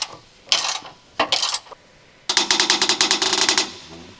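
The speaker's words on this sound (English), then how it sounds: "Use an 18mm deep socket with an extendable ratcheting wrench." Extendable ratcheting wrench with an 18mm deep socket tightening trailer hitch bracket bolts on a Land Rover Discovery 4, heard as a few separate clicking bursts and then a long, loud, rapid run of ratchet clicks.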